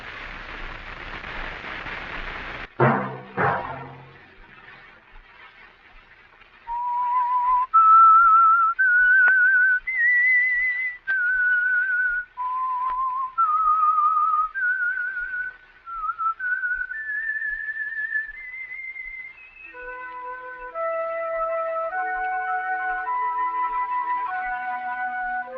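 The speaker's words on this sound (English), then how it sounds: "Let that whistle be your signal for the Whistler each Sunday night at the same time." The signature whistled theme of The Whistler, a 1952 radio drama, follows a brief loud burst; a lone, clear whistled melody rises and falls in distinct notes before sustained orchestral chords join beneath it.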